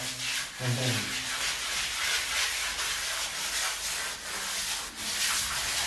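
A continuous abrasive whirring and rubbing of a spinning polisher against a surface, with rhythmic surges in loudness and no talking.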